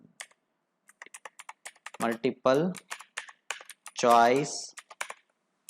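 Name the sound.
typing questions on a computer keyboard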